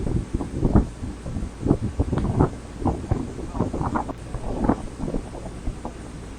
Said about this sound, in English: It was extremely windy, making his words almost impossible to hear.